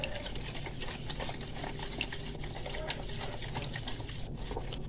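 Potatoes and tomatoes being stirred in a hot dish, with a steady soft scraping and sloshing that runs throughout and stays close and moderately loud.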